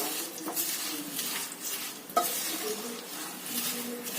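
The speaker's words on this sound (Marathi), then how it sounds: "शेंगदाणे घालायचे काजू आणि खोबरं घालायचं हे सुद्धा किंचित तांबूस द्यायचंय" Peanuts, cashews and coconut toast in a pan for chivda, giving a soft, steady sizzle with light stirring scrapes and one sharp clink of a utensil on the pan, fairly quiet and without speech.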